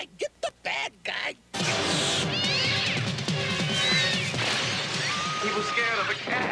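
A cat meows amid a loud, chaotic scene of commotion and crashing, following several short bursts; the cries ring out over dense background noise and voices.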